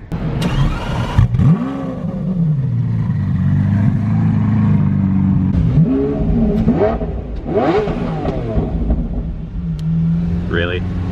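A Lamborghini Aventador engine turns over and catches, then revs hard several times, loud and close, with voices talking over the idle.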